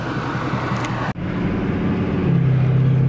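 Inside a rental car driving on the road, a steady low engine and tyre rumble fills the cabin, broken by a brief dip, then a rising drone as the car picks up speed.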